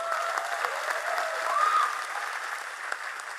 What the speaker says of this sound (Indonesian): Tepuk tangan untuk para supir kiai.